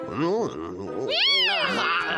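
A cartoon cat gives a pair of drawn-out, rising and falling meows, loud and close, the second longer and higher than the first.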